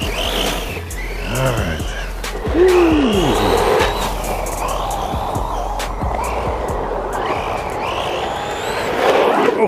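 A Vkar Racing Bison brushless 1:10 RC car driving fast, its high electric whine rising and falling in sweeps at middle distance beneath a low rumble, with someone talking briefly.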